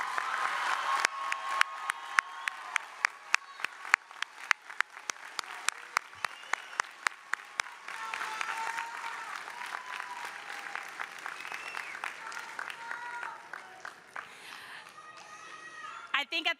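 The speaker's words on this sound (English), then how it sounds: "Let's give everyone one more round of applause." Graduation ceremony applause from an audience, sustained crowd clapping with sharp individual claps standing out, while voices and cheering carry over it.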